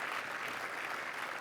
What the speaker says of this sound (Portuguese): podemos aquecer mais um bocadinho com um aplauso